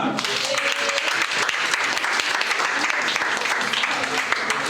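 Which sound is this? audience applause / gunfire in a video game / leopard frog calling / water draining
audience applause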